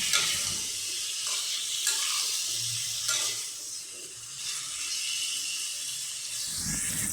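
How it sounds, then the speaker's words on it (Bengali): Pumpkin pieces frying in hot oil in a pan, a steady broad sizzle with occasional stirring scrapes, close and even throughout, no voices. "তেল গরম হয়ে গেছে, এবার কুমড়ো ঢেলে দেব, ভেজে নেব কিছুক্ষণ।"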